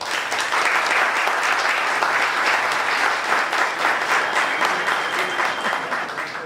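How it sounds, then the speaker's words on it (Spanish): A conference audience applauds the committee seated at the head table, dense sustained clapping from a full room that holds steady and eases off slightly toward the end. "sugiero su gentileza de un aplauso"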